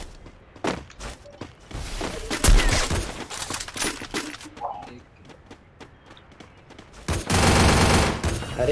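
In an online shooter game match, rapid bursts of automatic gunfire rattle out in several volleys, with a long sustained burst near the end, while a player's voice talks over the action.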